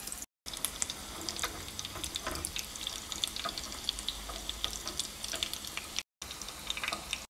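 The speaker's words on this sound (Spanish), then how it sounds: "Se pasa a freír en la manteca." Potato and pork tacos fry in hot lard, giving a steady, fairly quiet sizzle and crackle with scattered pops throughout, briefly cut off twice.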